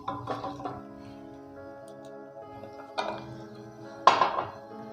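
A spoon clinks and scrapes around a bowl while chana dal burger patty mixture is stirred in a home kitchen, giving a few light taps and one sharper clink near the end.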